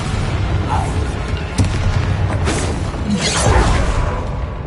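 A Bombarda spell explodes in Hogwarts Legacy, a loud booming blast with whooshing debris and rumbling impacts layered over continuous game combat noise.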